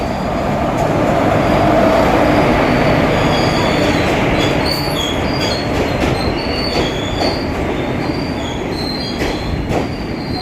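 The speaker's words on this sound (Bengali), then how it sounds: "আমাদের ট্রেন ঢুকে গেছে" A passenger train, the Kobiguru Express, pulls into a station platform, its rumbling wheels and rail noise steady and loud throughout, with squealing wheel tones rising near the end.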